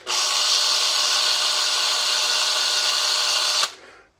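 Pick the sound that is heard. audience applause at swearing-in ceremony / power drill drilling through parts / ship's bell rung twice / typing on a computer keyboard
power drill drilling through parts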